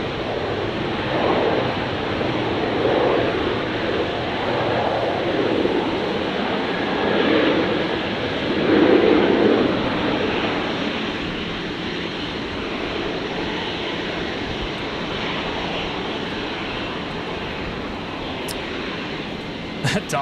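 A Virgin airliner arriving from Sydney touches down at Brisbane airport with a steady, broad engine roar that swells slightly around the touchdown. Wind hiss stays constant underneath, and a voice talks over it throughout.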